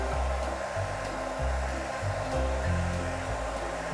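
A hair dryer blows air across a balloon shimmer wall, giving a loud, continuous whirring rush whose low hum shifts pitch in a few pulses as it moves, with no speech.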